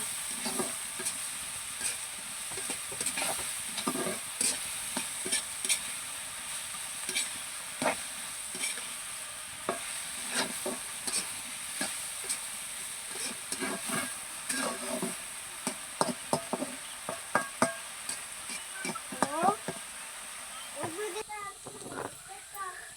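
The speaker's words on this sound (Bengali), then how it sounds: "তারপরে এটা আমি সুন্দর করে ভাজে নেব" Potatoes sizzle steadily in a hot pan, broken by repeated scraping and stirring clatters of a utensil throughout.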